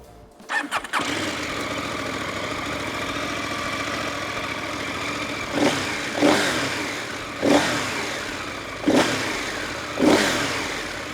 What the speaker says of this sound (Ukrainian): Давайте заведу мотоцикл.